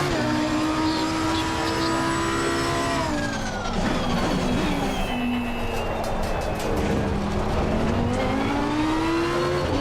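Race car engine howling around Spa Francorchamps in a racing video game, loud and continuous from cockpit view, pitch dropping on a lift then climbing steadily as the car accelerates through the gears.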